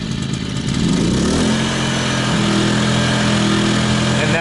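A Paxcess P2000i inverter generator, a new engine still breaking in, catches on a pull start and settles into a steady, loud, close engine drone with a rising tone as it stabilizes.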